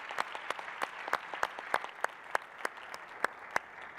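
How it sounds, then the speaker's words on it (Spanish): Sparse clapping from a small group applauding conference panelists, with sharp distinct claps spaced fairly evenly rather than a dense ovation, fairly quiet and unaccompanied by voices. "démosle una ronda de aplausos"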